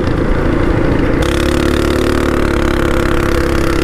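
A Predator 212cc engine on a Baja mini bike runs loud and steady throughout, a continuous mid-pitched drone with no pauses and no voices over it.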